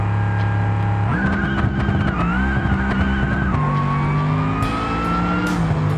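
A Gavril Grand Marshal supercharged drag car in a video game launches and screams through its run, the engine note climbing in rising steps with each gear change, loud and close, with a faint tire chirp late on.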